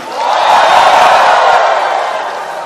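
A large congregation at a charismatic Catholic healing service shouts together on cue, a loud swelling roar of many voices that rises quickly, holds, and then eases slightly.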